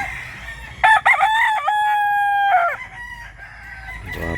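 A rooster crows loudly and close by in Mantalungon, Cebu, one long drawn-out call with a rising start and held notes, then a shorter tail, with no talking.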